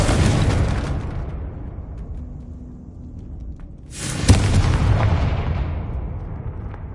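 A Confringo fire spell bursting in Hogwarts Legacy, one sharp loud explosive blast midway that decays into a rumbling roar, after an earlier fading burst of noise.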